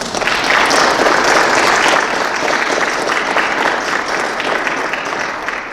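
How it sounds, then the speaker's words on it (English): Sustained, loud applause from a large audience, steady clapping filling the space throughout with no voices standing out. "Let's give our panelists one more round of applause."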